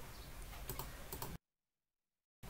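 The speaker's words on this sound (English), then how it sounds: "Now type this command sudo" Typing a command on a computer keyboard, rapid close keystrokes clicking for about a second and a half, then cutting to complete silence before a brief return.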